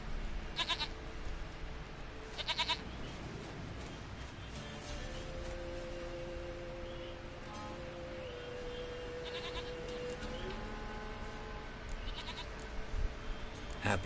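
Goat bleats in The Witcher 3: Wild Hunt, a few short wavering cries near the start and again around the middle and end, set against a steady game ambience with low tonal hums and a voice speaking faintly underneath.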